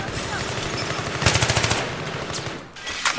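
Rapid bursts of gunfire in Battlefield 3 on the Ziba Tower map, including an AEK-971 rifle, a fast rattling volley in the middle with scattered single shots around it, over a busy background.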